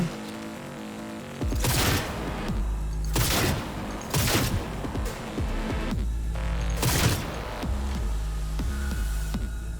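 Loud bursts of gunfire in Cyberpunk 2077, about five distinct blasts spaced a second or two apart, over a steady low electronic hum.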